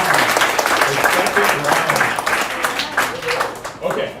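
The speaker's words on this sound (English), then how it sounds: "So big round of applause for our panelists and for our question and answer." Audience members at a LinkedIn Local meetup in Toronto applaud the panelists with a loud, full burst of clapping that stays steady, then thins slightly toward the end, with faint voices mixed in.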